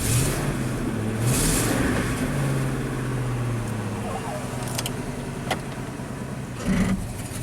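Ford truck engine with an ignition misfire revving unevenly, a rough, uneven drone rising and falling with a few sharp clicks, with someone speaking over it.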